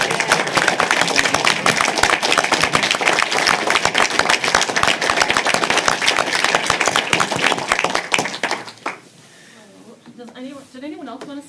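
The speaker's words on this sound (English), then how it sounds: "I think we should give a big round of applause for the two" Big round of applause from a city council meeting audience for two robotics coaches, dense sustained clapping for about eight seconds before fading out into a quieter room with a voice starting to speak.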